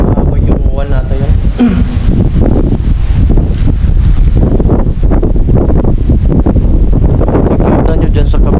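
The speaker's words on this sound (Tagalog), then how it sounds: "Sobrang lakas ng hangin kasi may paparating na bagyo eh." Strong gusty wind ahead of a typhoon at an abandoned hospital, buffeting the microphone with loud, constant roaring, while a voice speaks intermittently beneath it.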